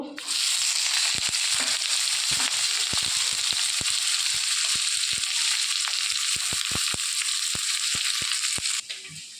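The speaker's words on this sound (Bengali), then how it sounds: "পেঁয়াজগুলো আমি একটু ভেজে নেব" Onions frying in hot white oil in a kadai, a loud, dense, steady sizzle with many sharp crackles and pops scattered throughout, cutting off abruptly near the end.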